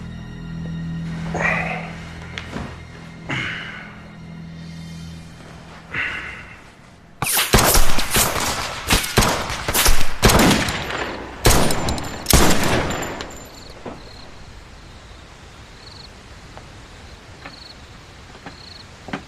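Pistol shots ring out during shooting practice, a rapid cluster of sharp reports and echoing cracks following a few quieter sounds, then fading to a faint background hum.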